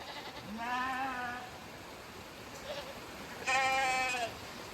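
Sheep and goats bleating while being moved through a gate, with two clear wavering bleats a few seconds apart, fairly close, over an outdoor background hiss.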